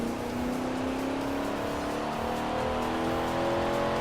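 Heavy car in the racing video game Project Gotham Racing 4, a steady droning engine with a slowly rising pitch and constant road noise, no talk.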